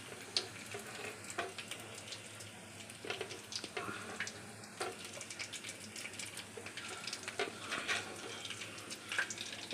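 Bay leaf, cumin and garam masala fry together in a pan of hot oil for a kochu sak (taro leaf) dish. A steady, fairly quiet sizzle runs throughout, with scattered small crackles and pops.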